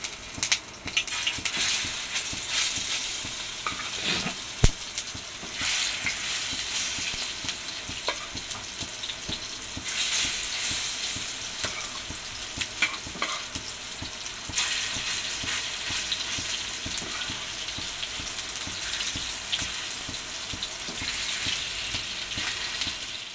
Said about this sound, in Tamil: எண்ணெய் காஞ்சிடுச்சு. நம்ம சிக்கனை வறுத்துக்கலாம்.